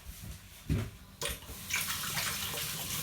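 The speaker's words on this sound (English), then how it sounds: "And then wash your hands." Hands washed under running tap water in a kitchen, a soft, uneven splashing with a couple of louder bursts as the flow hits the hands, fairly close and without talk.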